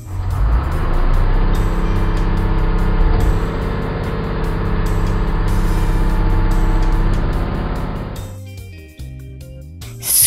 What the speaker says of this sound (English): Garbage truck.